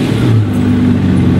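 A straight-piped, 700 hp rear-wheel-drive-converted Lamborghini Murcielago LP640 engine revs with a loud, continuous low growl close by, with a pitch rise early on and no talk over it.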